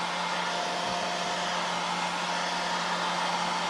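A hair dryer blows steadily and close by, drying metallic paint on button areas, with a constant motor hum and broad airy rush that holds unbroken throughout.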